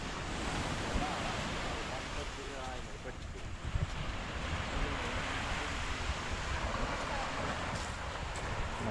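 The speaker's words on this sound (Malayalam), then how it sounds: "കടലാണെങ്കിൽ നല്ല അടിപൊളി കടൽ" Sea surf and gusting wind on a crowded Sunday beach, a steady broad wash of waves with rough wind buffeting the microphone throughout.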